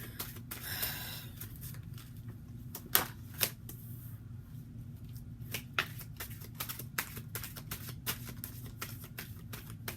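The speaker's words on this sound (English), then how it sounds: "Let me just keep shuffling" Tarot cards are shuffled close by, with rapid crisp riffling followed by a series of sharp, irregular card snaps and flicks.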